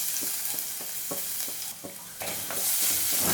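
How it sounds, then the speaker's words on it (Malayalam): Crushed garlic and curry leaves sautéing in a pan for Thiruvananthapuram-style rasavada, a steady bright sizzle punctuated by rhythmic stirring scrapes roughly every third of a second, close and without speech. "ഒന്ന് വഴറ്റി കൊടുക്കാം."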